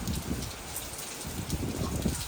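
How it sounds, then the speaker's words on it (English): Steady, non-stop rain falls continuously, a dense even hiss of drops on surfaces with no pauses and no voices. "non-stop rain"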